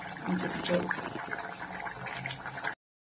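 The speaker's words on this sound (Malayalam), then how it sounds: "കറി നന്നായിട്ട് തിളച്ച് വന്നിട്ടുണ്ട്" A pot of thick pearl spot fish curry bubbles and simmers steadily up close, boiling with soft popping and gurgling throughout, ending abruptly.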